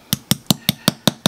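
Seven evenly spaced sharp metallic taps, close and crisp, as a pin is knocked out of a luxury watch band with a small hammer and tool, steady rhythm about five per second.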